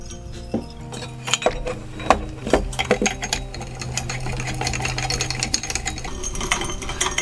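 Parts of a Hifree LED floor lamp are screwed together by hand, with scattered metallic clinks and taps and a low steady hum beneath, and no speech.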